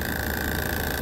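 An air-conditioning compressor runs backwards because its U, V and W terminal wiring is reversed. It gives off a steady, dense mechanical hum and whine with a constant high tone, close and continuous, with no voices.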